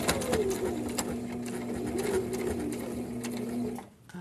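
A sewing machine stitches a grocery bag holder with a steady mechanical whir and rapid needle clatter, close and continuous, then stops abruptly near the end.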